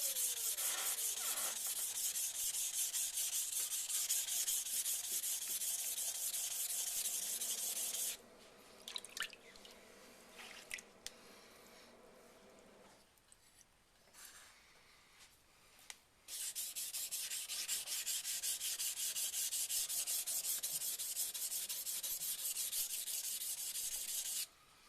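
A Takeda kitchen knife rasps steadily on a whetstone in long, even strokes, loud and close, with a quieter pause of lighter scraping in the middle before the rhythmic grinding resumes.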